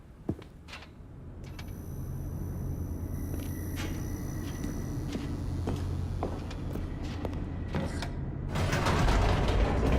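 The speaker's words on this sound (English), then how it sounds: "The elevator raced downward, plummeting towards an unknown fate." An elevator descending in The Stanley Parable, giving a steady mechanical rumble with creaks and clanks throughout, then swelling louder and rougher near the end.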